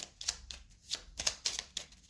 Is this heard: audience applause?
no